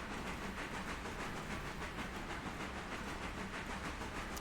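Train rolling along rails down a grade with the throttle idle, a steady broadband rumble and hiss with faint rhythmic clatter, continuous and even throughout.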